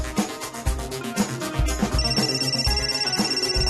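A telephone rings in an office or college setting, repeated electronic ring bursts over a loud, rhythmic music bed with no talking.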